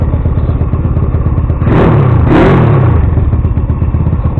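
A GSXR 50cc motorcycle engine running on its first start, a loud close-up idle with a brief rising rev and clatter in the middle before it settles back to a steady putter.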